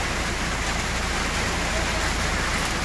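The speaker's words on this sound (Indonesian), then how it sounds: "Hujan terus. Hujan belum reda." Heavy rain pours down in a steady, unbroken hiss, dense and continuous throughout with no pause in intensity.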